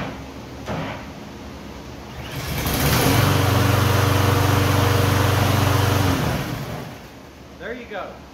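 A Toro lawn mower engine pulls into life and runs with a steady, loud drone for a few seconds, then winds down, with a voice briefly at the end.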